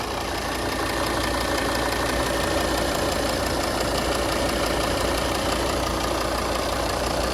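Steady idle of a 2017 Volvo XC60 2.4 diesel heard up close, with a loud, even rumble and a faint diesel clatter running unbroken from start to finish, with no voices.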